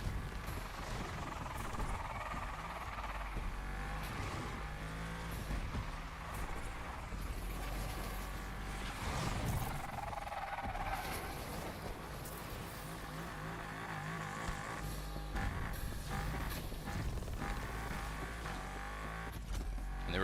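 Car sliding and drifting in a racing video game, a steady engine drone with shifting revs and tire noise running continuously at moderate loudness, with game music or effects layered underneath.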